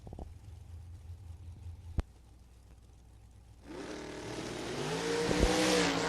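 Drag racing cars launch off the line at a bracket race, a quiet idle and a sharp bang before loud engines surge in and rise steadily in pitch as they accelerate away, with no talking.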